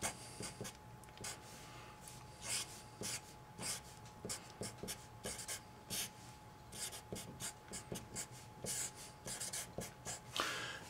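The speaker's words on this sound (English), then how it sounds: "Let's just draw a real big radical." A pen or marker scratches across a surface in quick strokes while drawing a large radical sign during a surface area math lesson. The short, dry scrapes come in irregular bursts and are close and fairly quiet, with no talking.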